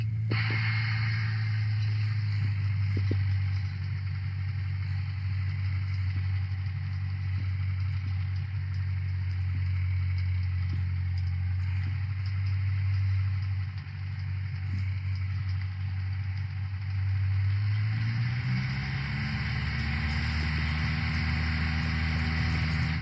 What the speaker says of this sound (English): because of the increased RPM in the engine, that makes more noise